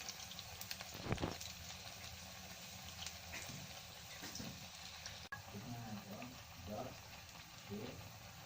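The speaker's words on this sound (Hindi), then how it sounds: "पकौड़े पलट रही हूँ अब।" Methi (fenugreek leaf) pakoras are flipped in hot oil over a medium flame, giving a steady sizzle and bubbling with brief stirring clatter, fairly close and continuous.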